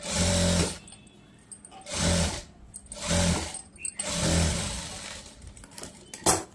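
A sewing machine stitching a boat neck blouse in short bursts, four runs of close, steady whirring separated by pauses with small clicks and handling noises.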